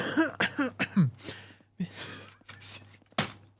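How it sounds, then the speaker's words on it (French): A few short, throaty coughs and breathy vocal bursts from a nearby person, separated by brief pauses. "Il a toussé"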